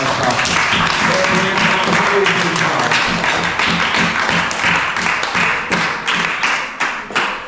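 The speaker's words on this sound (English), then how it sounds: "Let's give all the participants a round of applause." Applause for participants at a police youth club public speaking competition in Paget Farm, Bequia: dense, sustained clapping from a seated crowd that continues evenly before thinning and tapering off toward the end.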